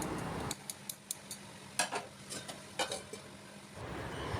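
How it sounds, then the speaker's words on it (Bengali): Snake gourd fries over a low flame in a pan, then is stirred and covered. Sharp metal taps and scrapes sound in an irregular run over a faint sizzle, close and quiet, with no voices. "লো ফ্লেমে আমি এটাকে ওই ঢাকা চাপা দিয়ে ভাজবো।"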